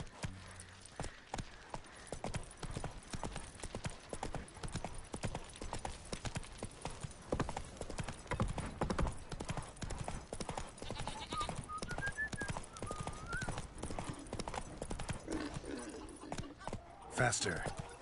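Horse hooves clip-clopping at a quick, steady pace in the game The Witcher 3, a near and continuous rhythmic patter with a brief whinny, while a person talks over it.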